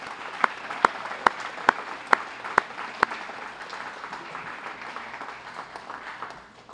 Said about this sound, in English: if you'll join me in giving you a round of applause for rallying to the cry of reading more